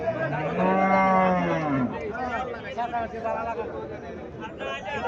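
A local breed cow lets out one long, loud, rising moo up close, followed by people talking and general crowd chatter at a cattle market.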